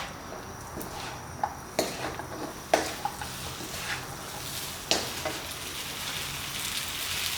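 Chicken tossed in a pan while frying in sesame sauce: a steady sizzle with scattered clinks and scrapes of utensil on metal, close by and with no talk.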